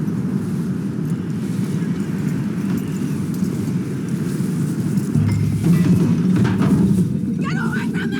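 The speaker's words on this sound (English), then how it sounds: "That looks like a decent horse." Horse hooves clip-clop steadily in Red Dead Redemption 2, set in the 1899 Wild West, under a continuous low rumble with brief voices near the end.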